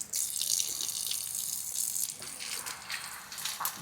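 Water gushes steadily from a tap at the entrance of a new flat, a continuous close hiss with faint voices in the background.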